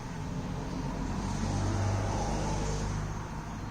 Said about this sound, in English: So you will hear some traffic going by.